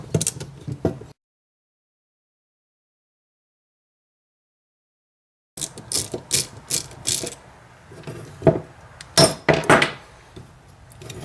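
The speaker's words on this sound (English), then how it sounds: "now we're going to remove these little bolts. They're tiny 3/16," Small ratchet clicking in short, close bursts as it removes tiny 3/16 bolts from a 1985-97 Mustang GT fuel pump assembly, with a silent gap midway and no talk.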